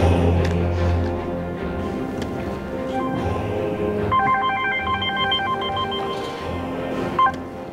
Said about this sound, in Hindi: आने वाली टेलीफोन कॉल की जानिब फोर्स कमांडर मुतवज्जो हो गए।